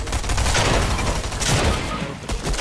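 Dense, loud video-game gunfire rattles continuously, overlapping shots penetrating walls in a sustained fusillade with no pauses.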